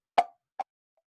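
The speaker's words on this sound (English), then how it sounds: "these two cups make a very good clip clop noise" Two hollow plastic clops, one louder then a softer one, like cups tapped on a surface, then silence.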